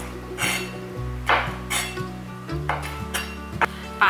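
A kitchen knife chops black wood ear fungus into small pieces on a cutting board, several crisp, uneven knocks over a steady background hum with soft music tones.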